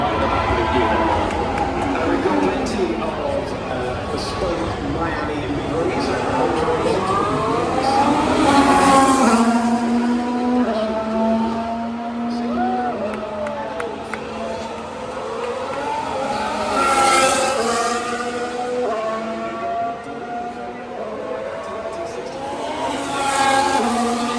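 Formula 1 cars at the Miami Grand Prix roar past one after another, engines rising and falling in pitch as they go by, with crowd noise and commentary-like voices underneath.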